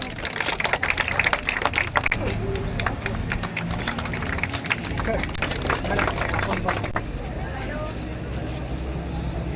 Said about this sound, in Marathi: चला जोरदार टाळ्या